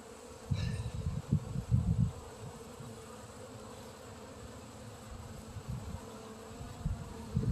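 Low, steady buzzing of honey bees at a porch hive, with a few louder swells as bees pass close, over a faint continuous hum.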